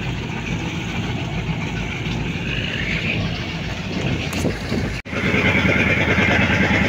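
A boat engine drives against the current on a sea trip between Cebu and Surigao. It gives a loud, steady, close drone that runs unbroken except for a brief dropout near the end, with no talking.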